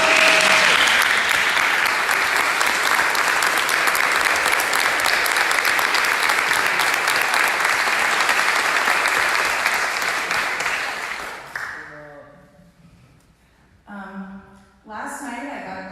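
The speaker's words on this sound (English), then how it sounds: "I think we can clap. Yeah, you may clap." An audience at a local Democratic political debate gives sustained, dense applause for about eleven seconds, then it fades and a single voice starts talking.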